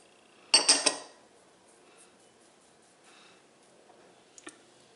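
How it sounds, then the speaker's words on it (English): Carrots and chopped onions are dumped into a bowl for a bison and sausage meatloaf, a quick clattering cluster of three sharp knocks, followed by faint scrapes and a couple of small taps in a quiet room. "I'm going to dump in my carrots, my chopped onions,"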